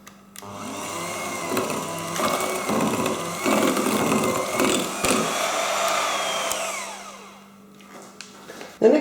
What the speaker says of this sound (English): I'm just going to give that a nice quick whisk. So again, on a nice slow speed.